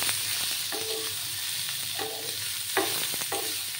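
Tomato chutney with a pinch of turmeric being stirred in a frying pan: a continuous sizzle with a spoon scraping through it in repeated strokes, close by.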